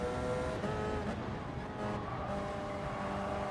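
A Gran Turismo Sport race car accelerates in a Group 1 race at Kyoto, its engine droning steadily and loudly throughout with a rising tonal whine. There is no talk.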